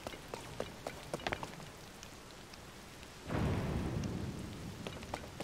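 Steady rain pours in a thunderstorm in Zelda: Tears of the Kingdom, with scattered crackles of thunder; about two-thirds of the way through, a louder rumbling surge of thunder swells up and lingers.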